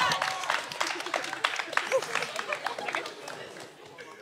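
An audience at a high school spoken word poetry event applauds a poet, scattered claps with crowd chatter and voices mixed in, moderately loud, tapering off toward the end.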